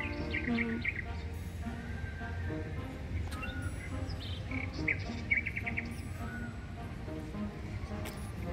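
Birds chirp and call in short scattered phrases through a city central park in Kaliningrad, moderately near, over a steady broadband hum of ambient noise and faint distant activity.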